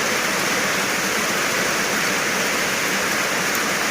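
Steady rain pours down outdoors in a dense, even hiss that stays loud and unbroken throughout, with no voices.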